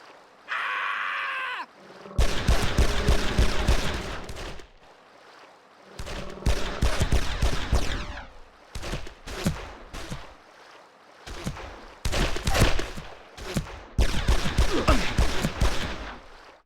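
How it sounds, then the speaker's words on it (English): Bursts of rapid gunfire in the video game Made Man, several loud fusillades in separate volleys of a few seconds each, with brief quiet gaps between them and a short tonal sound at the start. "You heard the gunshots?"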